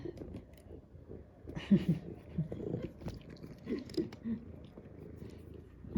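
An orange cat chews food close up, making soft, irregular wet smacks and small crunches with brief pauses, fairly quiet against a calm background.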